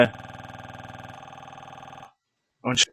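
A WhatsApp message notification chimes from a phone as a sustained buzzing, ringing tone for about two seconds, then stops before a brief voice sound.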